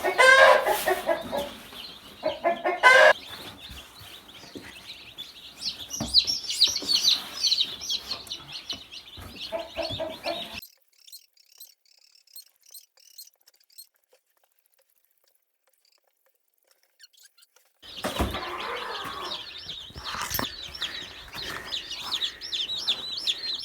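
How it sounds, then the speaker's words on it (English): A full box of newly hatched chicks chirps in a dense, high, continuous peeping chorus, close and loud, then drops to near silence for several seconds before the chirping resumes. "Here you have it, a whole full box of chicks."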